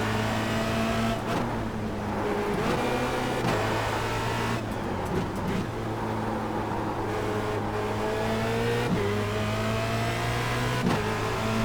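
A Formule Renault 2.0 race car at the Zandvoort circuit, its engine a loud, continuous high-revving drone heard close up from on board, broken by brief dips at gear changes.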